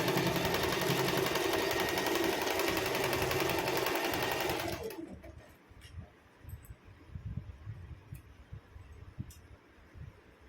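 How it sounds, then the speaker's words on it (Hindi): A sewing machine stitching kurti fabric runs in a fast, steady whirr for several seconds, then stops, leaving quieter handling noises and faint clicks. "इस तरह से यहाँ पे सिलाई लगा लेंगे। किनारे पे हम थोड़ा पक्का कर लेंगे इसको।"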